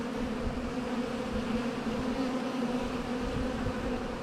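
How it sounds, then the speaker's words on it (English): Honey bees buzzing in an open, densely populated five-frame hive during an inspection, a steady close drone with no voices. "There should be so many bees spilling out that we can't see shade."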